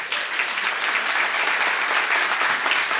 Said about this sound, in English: Let's have a big round of applause for Peter.